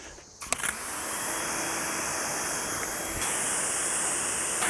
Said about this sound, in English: So we're gonna do a rinse.